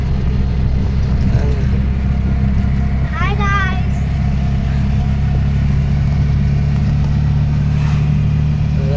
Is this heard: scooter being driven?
yes